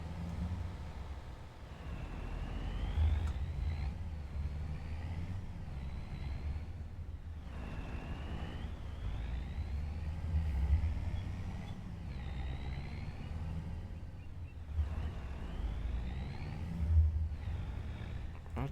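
A truck engine in Farming Simulator 25 rumbles steadily while driving, with repeated rising and falling whine as it shifts through gears and revs, heard up close and without talk.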